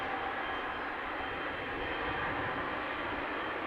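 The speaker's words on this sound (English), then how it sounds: "another Airbus from British Airways coming this way in the background. The 777 in the foreground" Broadband jet roar from British Airways Airbus and Boeing 777 airliners at Amsterdam Schiphol, a steady, fairly distant rumble holding level throughout with no voices.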